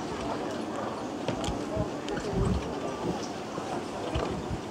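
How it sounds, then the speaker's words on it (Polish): Hooves of a bay horse team clip-clop at a carriage driving competition, a busy, steady rhythm of hoof falls with carriage rumble under a noisy outdoor background. "To są właśnie konie maści gniatej."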